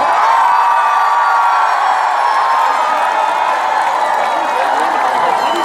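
A large crowd at an outdoor broadcasting-station opening festival claps and cheers loudly for a trot singer, a continuous roar of applause, whoops and shouting voices filling the space.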